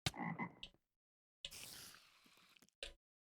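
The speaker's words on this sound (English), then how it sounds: "for whatever reason, we have frogs in here. They're multiplying." Frogs in the Minecraft modpack Project Ozone 3 croak in short separate bursts with silent gaps between them, each call clear and fairly loud.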